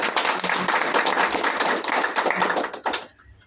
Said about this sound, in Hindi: एक बार जोरदार ताली सर।